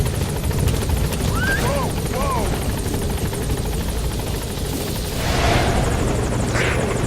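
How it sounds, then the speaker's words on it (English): A support helicopter's steady, loud rotor roar in the video game Metal Gear Solid V: The Phantom Pain fills the whole stretch, close and continuous, with brief voice-like chirps and radio chatter mixed in early. "support helicopter has arrived."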